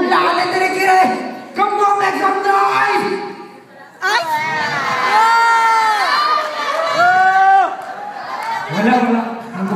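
A lively crowd cheers and shouts at a team event, with loud excited voices and high whoops rising and falling in waves, close and energetic.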